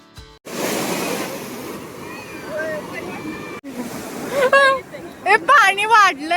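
Sea waves washing onto Gokarna beach, a roaring surge of surf that swells and breaks, with excited voices and chatter of people standing in the water rising over it toward the end.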